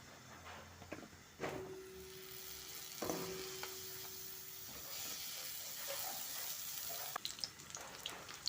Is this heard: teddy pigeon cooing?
no